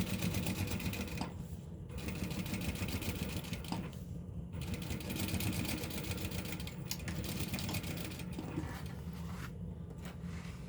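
A sewing machine runs top stitching on a bag, a steady, continuous mechanical whirr with brief pauses and faint rhythmic needle clatter, fairly quiet and close.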